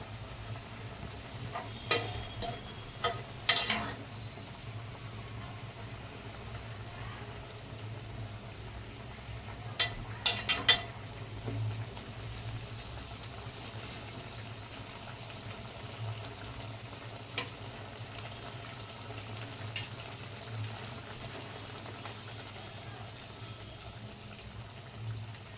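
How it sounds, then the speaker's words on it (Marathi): Brinjal kolim curry with stuffed eggplant and chopped potatoes simmers in a pot, giving a faint, steady bubbling hiss with a few brief scraping knocks from stirring near the start and middle. "छान अशी उकळी येते आपल्या भाजीला."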